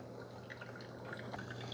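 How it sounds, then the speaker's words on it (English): A Hamilton Beach 12-cup front-access drip coffee maker brewing, giving soft, scattered drips and gurgles over a quiet steady hiss, low in level and close by. "so it starts brewing right away. It's a relatively quiet coffee maker."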